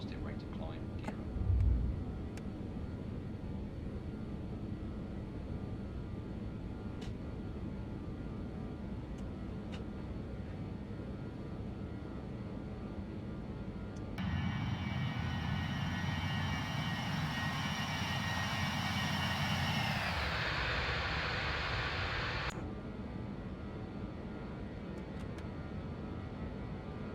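A BAe146 jet airliner climbs after takeoff, its engine roar steady and muffled from inside, swelling louder with a bright whine midway before settling back down.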